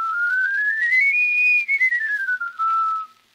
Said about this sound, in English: Here is a toy steamboat.